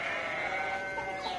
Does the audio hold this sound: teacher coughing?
no